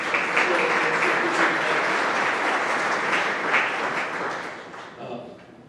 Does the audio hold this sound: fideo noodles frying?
no